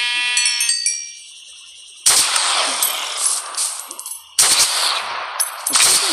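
An MSSR rifle from a Minecraft Philippine army guns mod fires single shots, three loud sharp blasts each trailing into a long noisy decay, after a brief high bleat-like tone at the start.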